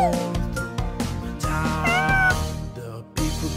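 Cat meows over a bright, rhythmic nursery-rhyme tune for children, with one pitched, wavering meow in the middle standing out against the music.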